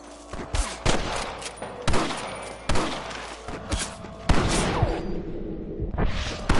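Sniper and rifle gunfire in a Western video game battle, with many sharp shots cracking in quick succession over a dense, busy background of combat noise.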